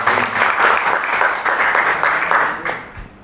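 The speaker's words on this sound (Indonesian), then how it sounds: "Ya, tepuk tangan" Audience of high-school students at a leadership training session clapping in a room, rhythmic and fairly loud, with the applause fading out near the end.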